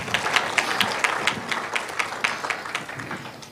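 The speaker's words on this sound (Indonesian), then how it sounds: "Beri tepuk tangan yang meriah." Applause from a church congregation, a dense burst of many hands clapping, fairly loud and steady before tapering off slightly.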